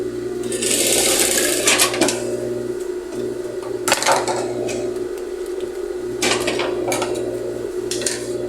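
A sewing machine stitches the seams of a puffer jacket in quick whirring bursts separated by short pauses, with occasional clacks of the fabric and the machine being handled.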